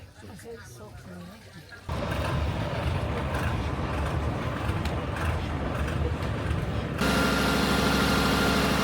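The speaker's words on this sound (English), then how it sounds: "This engine is so loud" A loud boat engine drones steadily throughout on the Mekong River, growing heavier after a couple of seconds and rougher near the end, with no pauses.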